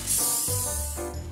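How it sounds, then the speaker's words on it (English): A sustained hiss of aerosol cooking spray onto a sheet pan, a couple of short bursts close up with brief pauses between them. "I'm gonna spray the pan first."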